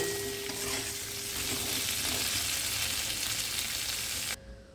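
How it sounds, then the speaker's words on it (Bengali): Prawns fry in a pan with a steady, crackling sizzle and occasional stirring, close and continuous, before cutting off abruptly near the end. "আজকে আমি পটল চিংড়ি করব, তাই চিংড়ি মাছগুলো ভেজে নিচ্ছি।"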